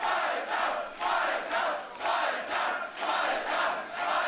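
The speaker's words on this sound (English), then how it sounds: "A rapturous reception for Pascal Spalter." A live wrestling crowd at the GWF Final Countdown 2022 show roars for Pascal Spalter, a loud, dense mass of voices swelling in a regular pulsing chant-like rhythm.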